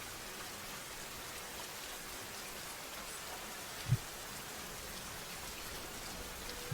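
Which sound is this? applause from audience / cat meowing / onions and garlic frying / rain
rain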